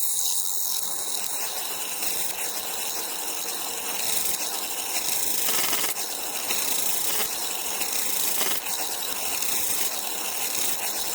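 An E.T. ion drive Corbino disc propeller, fed through a 50 centimeter tube and a 25 millimeter copper tube with argon gas, spins rapidly with a steady, hissing, rushing whir that holds constant throughout.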